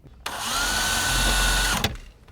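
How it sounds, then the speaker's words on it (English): A power drill bores a pilot hole, whirring steadily for about a second and a half, spinning up sharply and winding down, close by with no talking. "So once again, let's drill a pilot hole."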